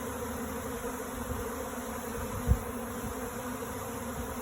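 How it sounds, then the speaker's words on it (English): A swarm of honey bees hums around a hive box, a dense, steady buzzing drone with a soft bump partway through and no voices. "now this entire swarm of bees is returning"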